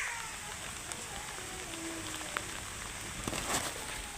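Heavy rain pours on a Punjabi village during flooding, a dense, even hiss of drops on surfaces with scattered sharper patters and small knocks.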